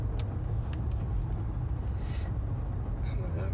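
A car engine while driving and shifting down gives a steady, close low rumble that runs through the whole stretch, with faint voices in the background.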